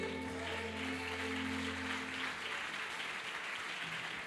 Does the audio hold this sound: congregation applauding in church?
yes